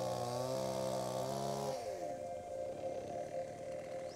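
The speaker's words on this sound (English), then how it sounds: "The rock is so soft that a chainsaw can cut through it." Chainsaw cutting through soft layered fossil lake rock in New Zealand: a loud, steady droning engine whose pitch drops sharply partway through as the blade bites in.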